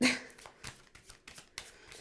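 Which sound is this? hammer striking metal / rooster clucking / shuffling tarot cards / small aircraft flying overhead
shuffling tarot cards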